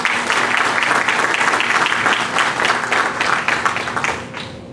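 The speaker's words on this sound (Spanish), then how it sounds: "Aplausos para el congresista y organizador del evento," Audience applause for a congressman and event organizer at a formal lecture event in Peru, a dense, steady wash of clapping from many hands filling the room, fading slightly at the end.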